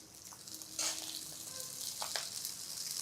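Rice fries with whole spices in a pan for Kashmiri pulao, a quiet sizzle with bursts of scraping and stirring over a few seconds.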